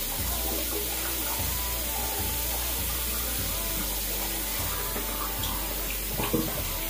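Tap water runs steadily into a bathroom sink while a thick kale face mask is rinsed off, a continuous close splashing hiss with no talk.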